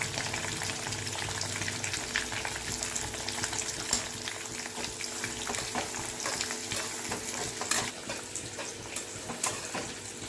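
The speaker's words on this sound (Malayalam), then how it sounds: "ഇനി നമുക്കൊന്ന് ഇളക്കി കൊടുക്കണം" Jackfruit fry sizzles steadily in a frying pan as it is stirred, with frequent scraping and clinking of the utensil against the pan over a continuous hiss.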